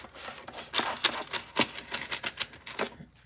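Deck of cards being shuffled by hand, a quick run of crisp riffling bursts and flutters close up, lasting about three seconds.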